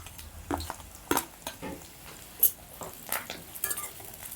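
Small shallots and curry leaves sauté in hot oil in a pan for mutton varuval. A soft sizzle runs under intermittent stirring scrapes and sharp utensil knocks against the pan, close and fairly loud.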